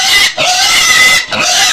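Pigs on a Filipino backyard farm give loud, continuous grunting and squealing snorts with two brief pauses, close and filling the whole moment without any talk.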